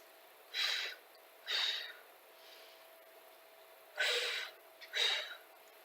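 Breathing during a Pilates exercise, with four or five sharp, airy breaths at a steady rhythm, close and clear over a faint background hum.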